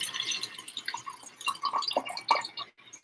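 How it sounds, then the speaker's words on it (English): Fizzy homemade drink liquid is poured into a jar, heard as close, uneven trickling and bright dripping splashes with glassy plinks, fairly quiet, with no speech. "I would pour the liquid into a jar"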